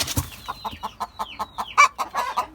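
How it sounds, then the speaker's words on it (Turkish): A Sussex hen clucks while laying an egg in a coop, a rapid run of short, rhythmic calls, close by, with a louder squawk near the end. "Suseks tavuğumuz yumurtluyor şu anda. Ötmeye de başladı."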